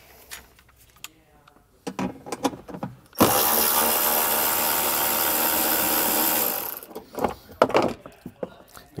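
A power tool removes a 10 mm bolt holding a tie-down hook on a 2023 Toyota. Scattered clicks and handling knocks surround a single loud, steady whirring burst of about three and a half seconds, with a voice speaking around it.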